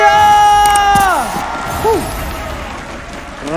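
Esports arena crowd at a mobile game league match, a loud burst of cheers, shouts and whoops with some clapping, slowly settling into a steady crowd roar over a few seconds.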